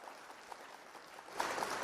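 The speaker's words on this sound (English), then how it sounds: "I got to get some hand clap for this one right here" An audience claps at a live stage show, scattered steady hand claps at first, then building into louder, fuller applause near the end; fairly faint overall.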